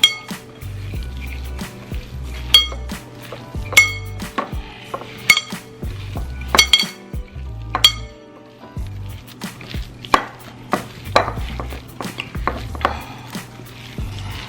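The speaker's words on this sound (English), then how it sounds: "I know that's my bracelet making all that noise." A metal medical alert bracelet clinks and rattles repeatedly against a mixing bowl while meatball mixture is worked by hand, close and irregular, with occasional soft squelching of the meat.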